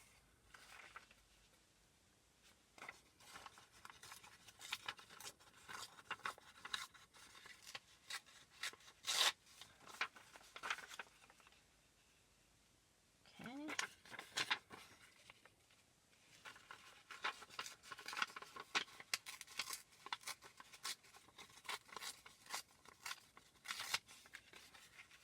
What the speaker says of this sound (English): So I'm going to go ahead and rip around them.